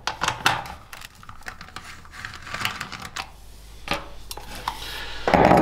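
An 8mm socket removing a bolt on a 2019 Yamaha Tenere 700 during a tail tidy fitting, heard as a series of sharp metallic clicks and ratcheting taps, close and fairly loud, with a clattering handling noise at the end.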